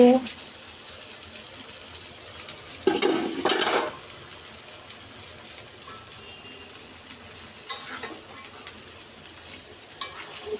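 Fish fries quietly in a home kitchen pan, a soft continuous sizzle broken by a louder burst of spattering and a few clinks of stirring.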